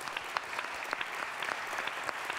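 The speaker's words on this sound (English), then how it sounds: "Big round of applause." Steady audience applause fills an award ceremony at a start-up challenge finale, dense clapping from many hands holding at an even level throughout with no voices over it.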